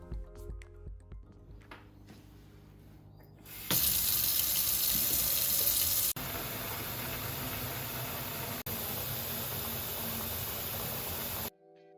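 A kitchen tap runs hard into a sink of soapy water for washing Amstrad CPC 464 computer parts: a loud, steady close hiss that cuts in after a few seconds and then stops abruptly.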